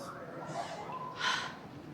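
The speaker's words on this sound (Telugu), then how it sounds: "ఆయాసం వచ్చేస్తుంది" Someone pants heavily after carrying two bags weighing about 24 kg in total through an airport. There is a quick breathy gasp near the end, and softer, strained breathing runs throughout.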